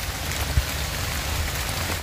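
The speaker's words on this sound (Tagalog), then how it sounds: "So hopefully titigil yung ulan." Steady rain falls as a dense, even hiss with a low rumbling undertone and one soft thump, close and continuous for a brief moment, no voices.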